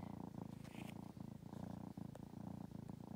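A small kitten, once feral, purrs in a steady, soft, continuous rumble close by, with a gentle pulsing rhythm and no talking over it.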